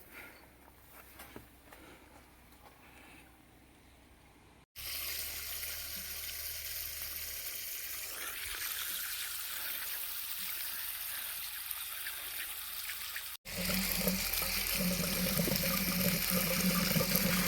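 Steady, loud rush of water flowing and splashing from a 3 hp solar borewell pump, continuous throughout with a brief break and a louder stretch near the end.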